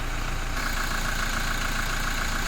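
A Toyota Fortuner's 2.8-litre diesel engine idles smoothly and steadily, a close, continuous low rumble with no voices.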